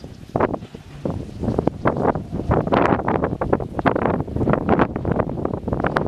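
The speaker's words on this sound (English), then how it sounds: "a place of high wind like this Penghu Island" Strong gusts of high wind on Penghu Island, Taiwan, batter the microphone with loud, continuous buffeting and irregular surging bursts that fill the whole stretch, with no voices.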